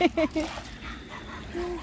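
A dog gives a few short, close yips and barks at the start, followed by quieter whimpering and background noise.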